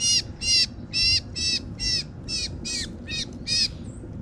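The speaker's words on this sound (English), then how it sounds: "It's making a meowing sound, and it's basically a gray bird with a black cap. This is a gray catbird." A gray catbird held at a bird-banding station gives a rapid series of about nine harsh, mewing calls, evenly spaced and close, with no talking.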